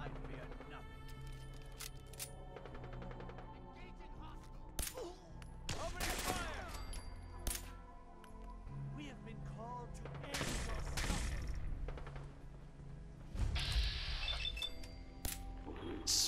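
Gunfire in Fallout 4 during a fight with raider gunners, bursts and single shots scattered over a busy game soundtrack, with a voice talking throughout.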